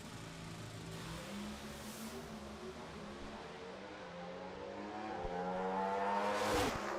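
Two Pro Stock drag race cars make a qualifying run at the Menards Nationals, their engines roaring as they shift up through the gears, heard from a distance and growing louder toward the end.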